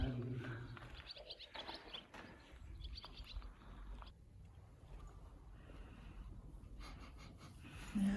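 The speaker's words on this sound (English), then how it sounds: "Oh, hi, birdies." Birds chirping outdoors near old charcoal ovens in southwest Wyoming, faint scattered tweets and calls against quiet open air.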